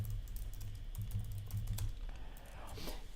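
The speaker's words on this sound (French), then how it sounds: "je tape n'importe quoi" Fingers type on a computer keyboard in a quick, uneven patter of light clicks that lasts about three seconds, fairly quiet and close, with no one talking over it.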